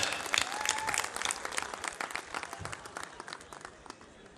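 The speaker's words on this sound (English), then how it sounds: "Let's give ourselves a huge round of applause, please." A crowd claps and cheers at an alumni talk in the mechanical department of PIET, dense applause starting loud and gradually thinning out, with no talking over it.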